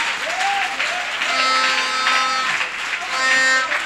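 Church congregation in Brazzaville applauding during a worship service, steady loud clapping with cheering and raised voices mixed in throughout.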